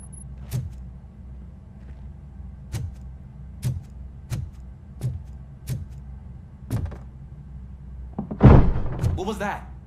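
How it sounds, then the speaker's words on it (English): A door opens in the Robocop video game: a run of sharp mechanical thunks at irregular intervals over a low steady hum, then a louder heavy clunk with a rattling tail near the end. "Now let me get that door open for you."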